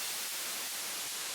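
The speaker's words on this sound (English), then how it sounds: "That's from the white noise." A white noise effect from a music track being produced gives a steady, bright, broadband hiss like static, constant in level for just over a second, with no voices.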